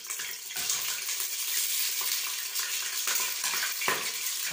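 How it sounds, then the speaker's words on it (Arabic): Onions fry in ghee in a pot on a gas stove, giving a continuous bright hiss and crackle with small bursts of stirring. Heard close up with no speech. "احنا دلوقتي حطينا السمنه على البوتاجاز، بتسخن شويه، واول حاجه هنحطها البصل."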